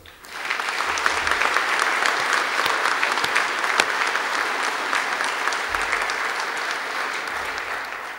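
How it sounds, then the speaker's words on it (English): Audience applause at a chartered legal executives' graduation ceremony, rising quickly into sustained, dense clapping from a large crowd in a hall, steady and full without a break until it eases slightly at the end. "I think that deserves a round of applause, don't you?"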